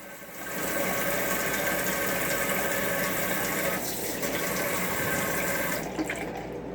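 Water running steadily from an RV tap, a continuous close rushing flow that holds evenly for several seconds before tapering slightly near the end.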